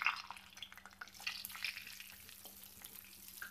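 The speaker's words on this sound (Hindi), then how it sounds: "अब हम इसमें जीरा डालेंगे।" Cumin seeds crackle and sizzle in hot oil, a busy steady spatter of pops with no talking.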